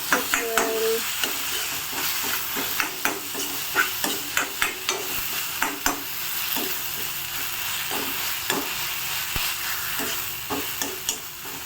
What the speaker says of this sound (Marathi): चॉप केलेली वांगी टाकायची आणि छान मिक्स करायचं.